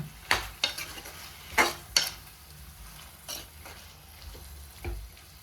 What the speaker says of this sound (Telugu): ఫస్ట్ ఇది బాగా కలుపుకోవాలి సాల్ట్ వేసుకున్నాక